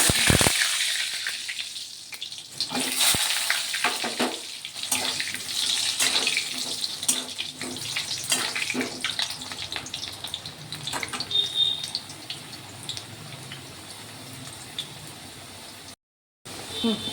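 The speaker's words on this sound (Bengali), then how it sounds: "প্রচণ্ড তেলের মধ্যে আলু দিয়ে" Potatoes drop into very hot oil and fry with a dense, crackling hiss that runs strong at first and gradually settles, close to the pan, with a brief gap of silence near the end.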